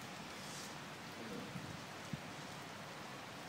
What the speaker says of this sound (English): the dynamic effect of rain on the floor